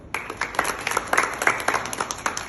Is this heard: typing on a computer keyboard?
no